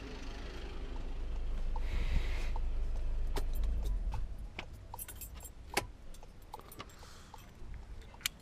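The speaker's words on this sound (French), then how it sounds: "Donc ça c'est la clé." A Volkswagen Golf GTD's key jingles and clinks in close, bright bursts, first over a low engine idle that cuts out midway, then alone in scattered metallic taps.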